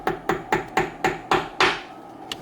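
Seven sharp, evenly spaced hammer taps land about every quarter second as a retainer is knocked onto a scooter wheel rim, close and loud, with a slightly heavier final blow and a faint extra tap after it.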